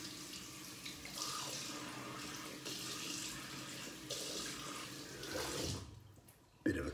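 A bathroom tap runs steadily into a sink for a post-shave rinse, a close, continuous splashing stream that stops abruptly near the end, followed by a brief knock.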